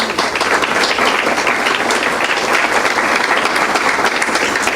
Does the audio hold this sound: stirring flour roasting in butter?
no